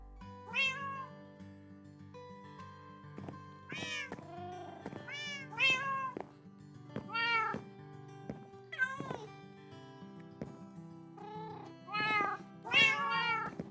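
Repeated cat meows with a synthetic, game-like quality in a modded survival game, a cat placed by a furnace, about a dozen calls in irregular bursts over a steady electronic background hum.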